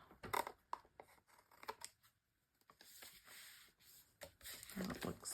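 Scissors snip through junk journal paper up close in a quiet room, a few quick cuts, then a pause, then a longer stretch of cutting near the end. No one speaks.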